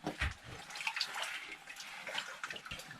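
Water from a forest spring in Kerala trickling and splashing steadily at close range, a soft continuous gurgle with brief louder splashes.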